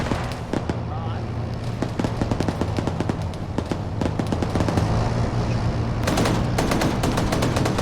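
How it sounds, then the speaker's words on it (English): A .50 cal machine gun in a war video game fires rapid bursts at a tank, loud crackling volleys over a low engine drone, intensifying into dense sustained fire near the end, with a voice talking underneath. "So the 50 cal manages to actually shoot the gunner out."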